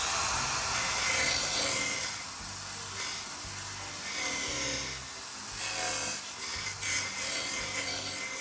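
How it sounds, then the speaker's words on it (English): Hand sanding along a wooden stringer for a boat's starboard side, fitted into bulkhead slots, gives a steady rasping rub in repeated strokes, close and fairly even throughout. "Therefore, I had to do some sanding."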